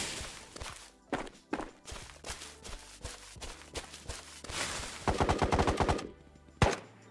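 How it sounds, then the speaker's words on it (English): Gunfire in the video game Ghosts of Tabor: sharp shots and a fast automatic burst, moderately close, mixed with footstep-like thuds and a final loud single shot. "that was some surprising gunfire"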